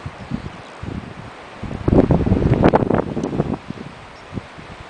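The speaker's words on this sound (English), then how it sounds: "I don't know if you can hear the sound of the waves or not." Ocean waves wash in at a ranch, with a soft, rushing swell that builds, peaks and fades away under steady wind noise on the microphone.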